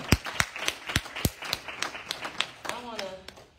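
A church congregation claps in a steady, even rhythm of sharp hand claps, fairly close, with voices calling out over the clapping.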